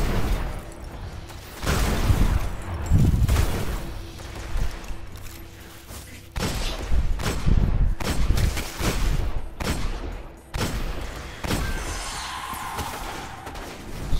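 Gunfire in the video game Destiny, with bursts of loud shots and booms coming in clusters and broken by short lulls, set against game background noise.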